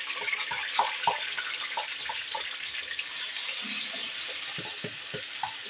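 Sliced onions fry in hot oil for restaurant-style chana daal, giving a steady soft sizzle with scattered light stirring clicks throughout and no voices.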